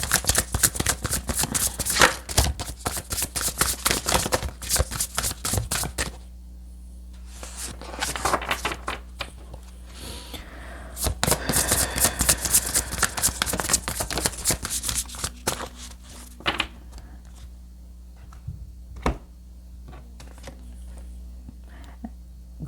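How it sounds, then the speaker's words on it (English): Tarot cards shuffled close up in quick rustling, riffling bursts, with pauses between rounds and a faint hum in the background. "this one needs a quick shuffle"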